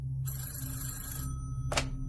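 A telephone rings as a sound effect: a bright, sustained electronic ring lasting about a second over a low steady hum, followed by a short burst of noise.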